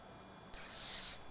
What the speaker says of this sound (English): pull off the film.